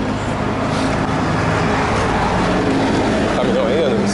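A recycling truck rumbles along a busy street in Pavuna, Rio de Janeiro, its loud, steady engine and road noise filling the scene while people talk nearby.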